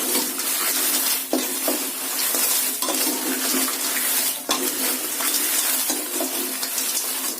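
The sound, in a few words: dry roasting red chillies in a pan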